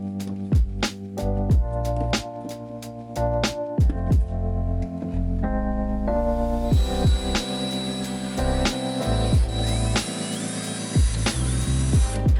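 A power drill whirs in repeated bursts, drilling holes in wood for a model house electrical system, starting and stopping, loud and close, with music playing underneath.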